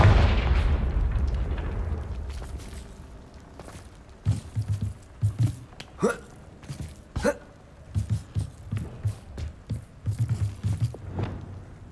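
A loud, close blast of the Confringo blasting spell in Hogwarts Legacy opens with a deep boom that slowly rumbles away, followed by a string of short, soft thumps like footsteps.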